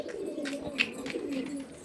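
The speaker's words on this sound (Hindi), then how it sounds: "एक कबूतर गूंजने लग गया" A pigeon coos in low, soft, rolling tones, a steady murmur running under faint outdoor noise with a few brief higher chirps.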